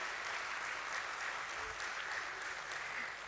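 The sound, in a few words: audience applause at listing ceremony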